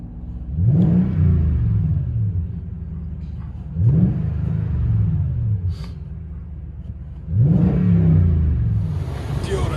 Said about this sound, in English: Tundra with Dirty Deeds exhaust